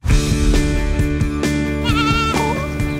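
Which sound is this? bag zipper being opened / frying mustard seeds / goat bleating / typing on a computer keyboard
goat bleating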